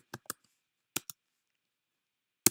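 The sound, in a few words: typing on a computer keyboard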